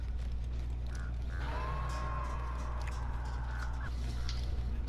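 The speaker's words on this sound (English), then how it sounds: "Got these noisy birds around me." Noisy birds, probably crows, circle the player in the Dead by Daylight video game, giving a few thin calls and caws over a constant low game hum and background noise.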